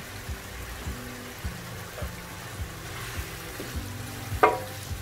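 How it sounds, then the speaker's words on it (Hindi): Chicken karahi frying in a pan with dry coriander and crushed cumin: a low, soft sizzle with rhythmic scraping stirs about every half second, ending in a brief sharper clink, with no talking. "बस 1 मिनट के लिए हम इसे और भूनेंगे"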